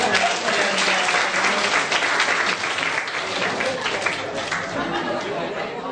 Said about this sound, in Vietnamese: Xin cho một tràng pháo tay nữa.